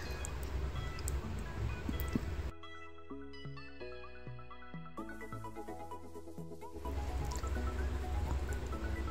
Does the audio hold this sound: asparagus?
no